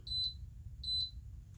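An exercise interval timer gives two short, high electronic beeps about 0.8 seconds apart, clear over a quiet low room hum.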